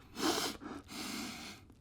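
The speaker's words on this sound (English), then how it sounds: "I forgot to sniff it" A person sniffs a brand new Daiwa Alphas SV TW 800S baitcasting fishing reel, giving two or three close, breathy inhales in quick succession with no talk.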